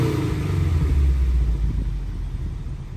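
Honda S2000 with a Ballade titanium dual exhaust, recorded up close: a deep rumbling rev blip that swells early, then settles back toward idle, alone without talk.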